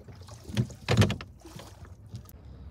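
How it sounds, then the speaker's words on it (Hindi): Oars working a rowboat on Lake Bled, Slovenia, with a few soft splashing strokes and knocking sounds in a slow, uneven rhythm, fairly quiet and close by. "थोड़ी प्रैक्टिस करते हैं चप्पू चलाने का"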